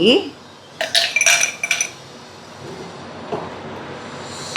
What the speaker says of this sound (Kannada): ice cube hockey